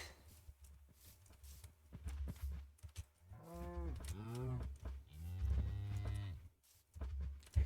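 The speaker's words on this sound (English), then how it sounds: "Did we get all 3 types of cow? Like with all 3 moo variants?" Cows moo in Minecraft, several drawn-out bellowing calls one after another over a few seconds, loud and close with no talking.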